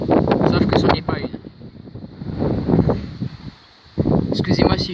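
Strong gusts near 50 km/h in open country at Lœuilly batter the microphone with loud rumbling bursts that ease briefly near the end before surging back.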